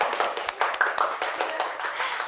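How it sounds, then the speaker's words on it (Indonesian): Classmates clapping for a student group during a school lesson, a small, uneven patter of hands in loose rhythm, fairly close and lasting about two seconds. "Tepuk tangan buat kelompok 2."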